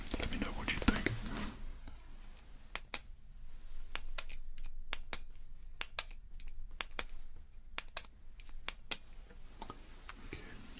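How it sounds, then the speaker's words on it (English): Clicky ballpoint pen in a quiet ASMR setting, its crisp clicks repeated at uneven intervals, near and distinct, after a brief burst of rustling at the start. "what you want to find out with a clicky pen is its clicky sound."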